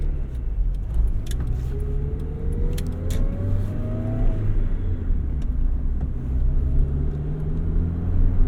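A 1991 Honda Civic Si EF hatchback starts up: a brief cranking whir that rises as the engine catches, then a low, steady rumbling idle with light clicks and rattles nearby.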